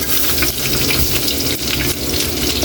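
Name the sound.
garlic frying in pork-flavoured oil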